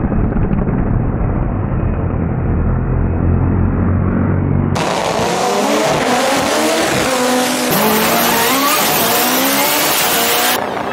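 Onboard view of a Chevette street-race car with an 8-valve engine: a steady loud engine drone, then a sharp cut to hard revving and tire squeal with skidding as the car accelerates and swings around close-up.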